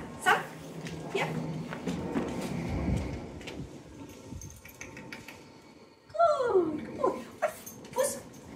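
A dog on a leash whimpers and yips during heel training, with short whines and a rising, sliding whimper near the end, fairly close, over a soft rustling background.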